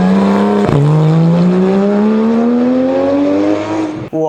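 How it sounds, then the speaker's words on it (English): A high-speed racing car's engine revs loudly and alone, its pitch climbing steadily in one long acceleration, with a brief gear-shift dip early on and an abrupt cut at the end. "This is high-speed racing car, guys."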